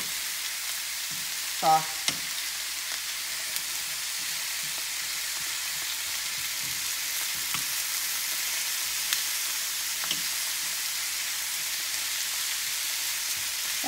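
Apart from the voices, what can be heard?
zucchini sautéing in a pan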